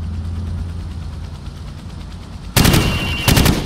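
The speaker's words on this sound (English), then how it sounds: "I want you to shoot the targets through the wood." Rifle fire shooting through plywood targets in the Call of Duty 4 video game, two loud bursts of rapid shots breaking in after a low rumbling ambience and humming engine-like drone.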